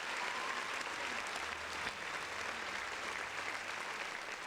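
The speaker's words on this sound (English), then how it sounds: "Round of applause." Steady, quiet applause from a podcast audience runs evenly throughout, a dense wash of clapping with no break and no voices on top.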